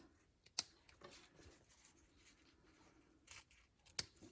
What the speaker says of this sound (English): Let's trim these at an angle.